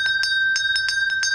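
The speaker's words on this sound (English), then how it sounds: "they get to come out and ring the bell that is in the atrium" A school bell in an elementary school atrium is struck in quick succession, about seven bright, ringing clangs within a second and a half, clear and close.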